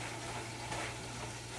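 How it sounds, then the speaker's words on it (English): Hamburger meat sizzles in a pan as it is stirred with a spatula, a steady dense crackle with a brief scraping swell midway. "Now, I want to stir up this hamburger."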